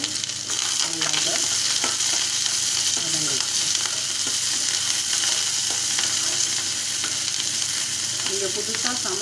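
Onion, garlic and curry leaves fry in hot oil for a South Indian cauliflower-potato dish, giving a loud, constant sizzle close by, with scattered spatula scrapes and stirring clicks running through it.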